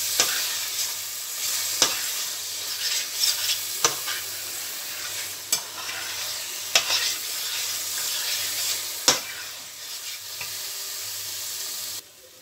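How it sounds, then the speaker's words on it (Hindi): Grated carrots with raisins are roasted in a pan for gajar halwa. A constant sizzle runs throughout, broken by regular sharp spatula scrapes and stirs, then stops abruptly at the end. "अब हम इनको अच्छी तरह भून लेंगे।"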